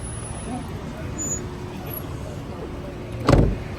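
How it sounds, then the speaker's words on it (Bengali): A 2011 Toyota Corolla engine idles with a low, steady hum while people murmur nearby; a brief knock sounds near the end. "গাড়িটা এখন রানিং আছে"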